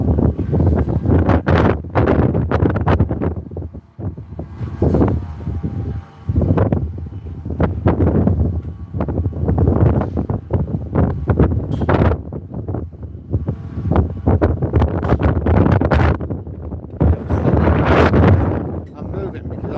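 Strong wind gusting along a seaside promenade, buffeting the microphone in loud, uneven rumbling blasts that rise and fall for the whole stretch, with no clear voice above it.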